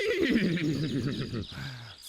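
A cartoon horse whinnies loudly and close, a long wavering neigh that trembles up and down before trailing off into a short lower snort.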